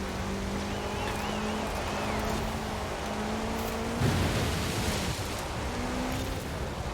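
A race car in Forza Horizon 4 laps a circuit, its engine a steady, continuous roar with shifting tonal whine and road noise throughout, no talk over it.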